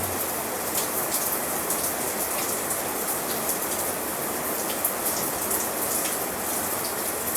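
Steady rain pours down, a dense, even hiss of drops on surfaces that fills the whole stretch with no pauses.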